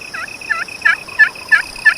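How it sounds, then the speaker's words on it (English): Wild turkeys gobble from a hill in spring turkey season, a run of about six short, evenly spaced calls over two seconds, moderately loud, with a steady high tone running underneath. "There's 3 or 4 turkeys up there."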